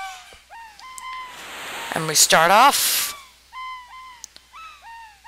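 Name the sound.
birds chirping in the video game Chrono Trigger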